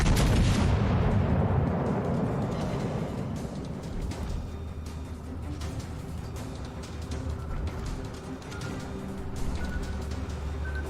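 Secondary guns on a battleship firing at an enemy ship in World of Warships Legends: a loud booming blast up front that decays into a rumbling tail, followed by scattered distant gunfire pops and thuds.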